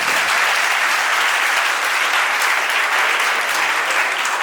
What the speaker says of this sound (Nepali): एकपल्ट फेरि पनि जोरदार ताली।